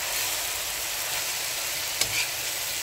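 Sautéed shrimp paste stirred in a hot pan while cooking laing, a steady broad sizzle with a brief scrape of the utensil near the end, close and continuous.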